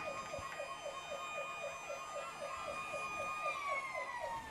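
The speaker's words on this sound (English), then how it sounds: "Is that an air raid siren? I think it is." An air raid siren at a high school football game wails, cycling up and down steadily in the distance, with a sustained tone that slides lower near the end.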